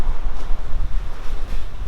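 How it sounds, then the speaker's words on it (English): Strong, gusty wind buffets the microphone outdoors near a boat, making a loud, uneven low rumble that rises and falls with no talking. "A little windy today."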